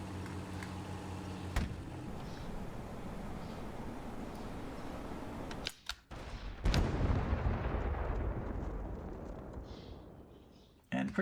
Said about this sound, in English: pretty heavy bombardment of Dust Bowl from artillery